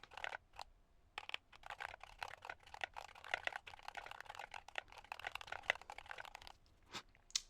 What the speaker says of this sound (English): So here I have typed that in.